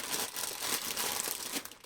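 Close, continuous crinkling and crumpling of wrapping paper, rustling steadily throughout.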